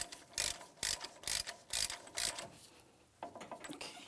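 A hand ratchet snugs up the axle nut on a 2007-2014 GMC Sierra 2500 HD during a lower ball joint job, giving five loud bursts of rapid clicking followed by quieter, lighter ratcheting.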